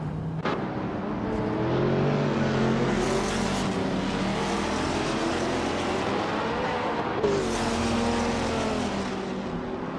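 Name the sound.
racing cars' engines in a video game race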